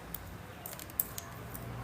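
Soft, irregular keyboard typing with scattered key clicks over a quiet room hum, one click slightly sharper than the rest.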